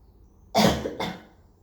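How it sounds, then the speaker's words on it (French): Two short forced coughs, one right after the other and close to the mic, done deliberately during a gentle abdominal exercise to engage the deep core muscles, with quiet room tone before and after. "on peut tousser pour réveiller le transverse"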